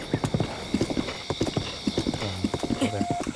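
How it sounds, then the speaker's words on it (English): A horse gallops in the video game Zelda Breath of the Wild, with fast rhythmic clip-clop hoofbeats and a brief whinny, clear and fairly close, while a player talks over it. "my horse is too slow"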